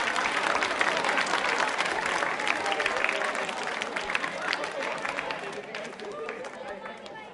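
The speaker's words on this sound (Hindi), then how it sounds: "तालियां जोरों से बजनी चाहिए।" Audience at a school quiz show applauding a student who raised a hand to answer, a steady wash of many hands clapping with crowd murmur beneath, slowly tapering toward the end.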